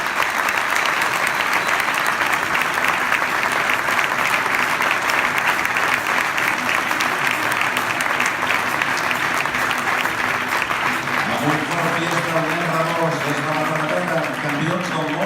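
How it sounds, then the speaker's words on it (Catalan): Sustained, dense applause from a crowd at the RACC Motorsport 2017 awards night, honouring rally world champions Nil Solans and Miquel Ibáñez; steady and loud throughout, with a voice starting to speak over it near the end. "L'aplaudiment d'aquesta nit pel Nil Solans i el Miquel Ibáñez."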